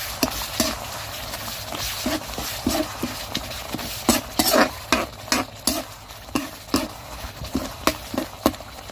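A spatula scrapes and taps rhythmically against a pan while curry paste sizzles underneath, a steady series of short stirring strokes up close.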